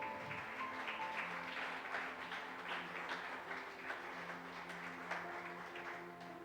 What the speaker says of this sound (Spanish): Dale un aplauso al Señor en esta noche.